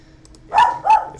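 A dog barks twice in quick succession, close and fairly loud, each bark short and sharp over a quiet room.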